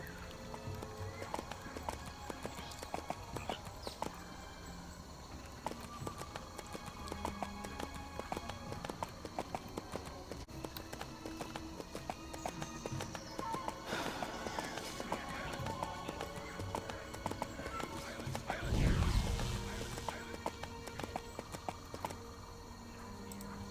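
Horse hooves clip-clopping and running in the Everquest 2 video game, a steady rhythmic patter under game sounds with a brief louder burst near the end; a voice talks briefly.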